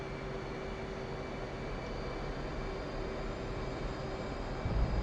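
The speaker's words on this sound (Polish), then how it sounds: "Rozkręcamy powoli silniki, nie za szybko." Twin jet engines of an F/A-18 spool up on an aircraft carrier catapult in the DCS flight simulator, a steady broadband roar with a faint tonal whine that swells slightly louder near the end.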